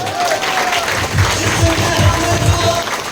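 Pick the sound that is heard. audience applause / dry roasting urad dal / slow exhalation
audience applause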